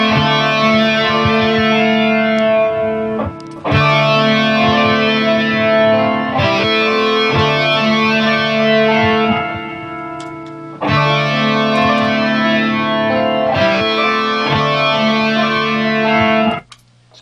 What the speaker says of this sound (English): Now you could add something in with distortion.